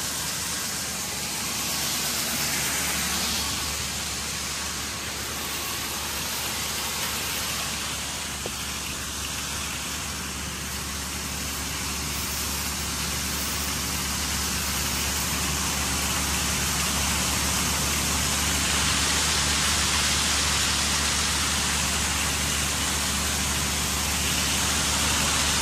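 An 8-inch swing hopper auger carries corn up into a 10,000-bushel grain bin, giving a steady, loud rushing hiss with no breaks for the whole stretch and no voices.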